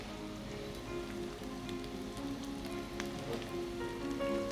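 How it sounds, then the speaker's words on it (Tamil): Curry leaves dropped into hot oil with garlic for a Tamil anchovy curry, giving a steady, fine crackling sizzle with scattered sharper pops, close and moderately quiet, with no talk over it. "அடுத்து வந்து கருவேப்பிலை போடணும்."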